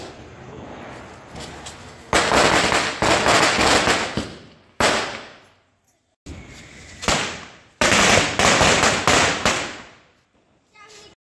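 Diwali firecrackers set off nearby in several loud crackling bursts, each a rapid string of sharp pops that fades away, with silent gaps between.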